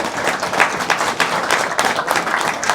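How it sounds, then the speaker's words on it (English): Rugby league spectators at an Oldham versus Dewsbury match give player Owen Farnworth a warm round of applause: a steady, fairly loud wash of clapping from the crowd. "boss as Owen Farnworth gets a warm round of applause"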